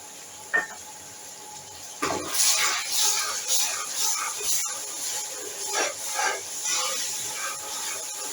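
Garlic-ginger paste frying with okra in a pan: a sharp thump, then a loud, steady sizzle and hiss that carries on close-up, with a few stirring clatters.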